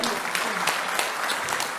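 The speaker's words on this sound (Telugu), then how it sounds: "అందరూ ఒకసారి గట్టిగా క్లాప్స్ కొట్టాలి" A crowd at a ceremony handing out Dasara bonus cheques to Singareni coal mine workers claps loudly to congratulate an honoured worker, a dense, even burst of applause throughout.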